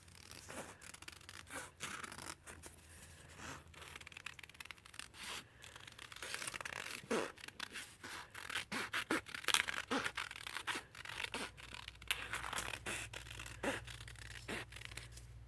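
Scissors snip out a handmade paper tag at close range, a series of quiet, irregular cuts and rustles against a faint background hum.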